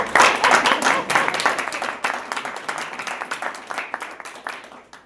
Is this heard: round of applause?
yes